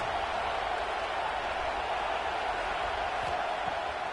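Steady stadium crowd roar from a football video game, a continuous broadband wash of cheering behind the defense on a big third down, fairly faint and even throughout with no distinct voices.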